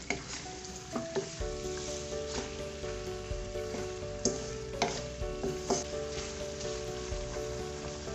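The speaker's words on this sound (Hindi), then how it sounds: "चिकन को मैं 2 मिनट फ्राई करूंगी" Chicken seasoned with crushed black pepper and salt sizzles and fries steadily in a pan, with a soft continuous crackle broken by repeated clicks and scrapes of stirring throughout.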